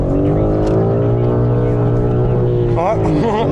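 BMW M3 Competition G80 on a track under throttle, a loud steady engine drone with rich harmonics, ending in a quick rise in revs as the car pulls away, with someone talking over it.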